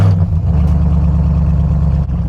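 A 2021 Ram TRX pickup with a 702-horsepower V8 rumbles through its twin exhaust pipes just after start-up, a loud, steady, deep burble held close and alone throughout, with a slight dip near the end.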